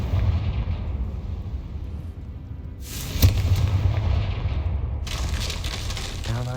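A Confringo spell blast in Hogwarts Legacy: a sharp burst lands around the three-second mark over a constant low rumble, followed by rising crackling debris and another swell of noise near the end.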